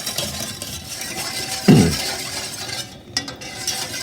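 A sauce mixture with habanero pepper is stirred in a pan over medium heat, a spoon scraping and clinking against the metal with one louder knock partway through, close and alone.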